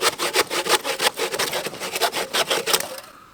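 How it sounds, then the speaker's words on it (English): Hand saw cutting through wood in a garden, a steady back-and-forth rasping of repeated close strokes that stops abruptly near the end, with no talking. "I did it, I sawed it."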